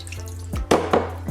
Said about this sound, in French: Pour le sirop, donc là on met 80 g d'eau